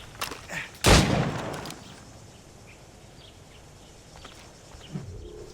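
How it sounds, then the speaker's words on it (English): A single sharp gunshot from a flintlock-era firearm in Assassin's Creed Rogue rings out with a short echoing tail, followed by quiet ambience, faint bird calls and a few soft thuds. "I'm practicing how to use guns"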